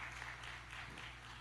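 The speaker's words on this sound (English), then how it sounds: "Let's give the Lord a great hand clap" Church congregation clapping during a Sunday School service, a faint, steady wash of many hands applauding together for the whole moment.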